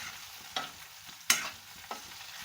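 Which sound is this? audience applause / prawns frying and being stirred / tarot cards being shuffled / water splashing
prawns frying and being stirred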